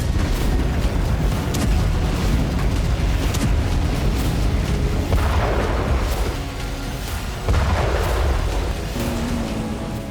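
Heavy booming blasts from Russian weapons, a dense, continuous barrage of loud low rumbles and bursts with no clear gaps, rolling on for about ten seconds.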